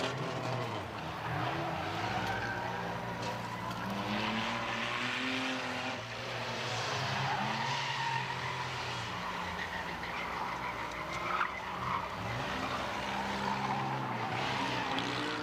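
Stock race cars roaring around the Midvale Speedway oval during a night feature race, several engines droning and revving together close by with tire squeal, one car running rough near the end, with no talk.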